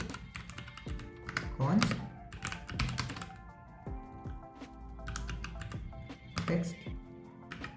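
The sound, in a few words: typing code on a computer keyboard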